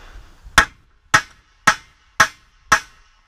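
A flat hammer drives a rivet on a Husqvarna chainsaw bar's replacement sprocket tip: five sharp, evenly spaced metallic blows, close and loud, with quiet between them and no talking.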